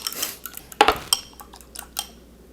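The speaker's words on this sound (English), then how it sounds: "Once the egg's cracked, we're gonna put it into a little mixing bowl, and then give it a little whisk, like this." A cracked egg is whisked in a small mixing bowl, with light tapping and clinking of utensil against the bowl in a few quick, irregular bursts, close but soft.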